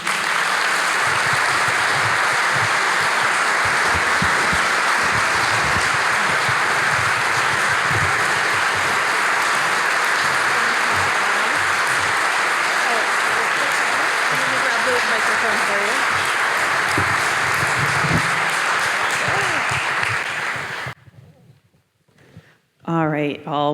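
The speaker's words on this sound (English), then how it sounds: "Well, thank you so much for that round of applause." A live audience at a talk on belonging and othering breaks into loud, dense applause that holds steadily for about twenty seconds, then stops abruptly, leaving near silence with a brief voice at the end.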